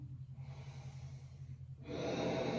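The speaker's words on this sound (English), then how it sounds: "Three, long, deep breathing." Long, deep yoga breaths during an Ashtanga class, a steady low airy rhythm that swells into a louder, fuller exhale near the end, with no talking.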